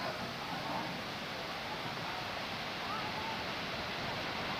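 Steady, full roar of Kuang Si waterfall in Luang Prabang, Laos, close by, a constant broadband wash of falling water with no breaks.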